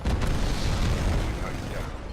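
A close artillery strike explosion in Titanfall 2, a dense low rumbling blast that rolls on for about two seconds without a clear break.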